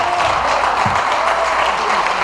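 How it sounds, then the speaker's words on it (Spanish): A church congregation applauds, a steady, dense wash of clapping from many hands filling the room without a break. "Den un aplauso al Cristo de la gloria."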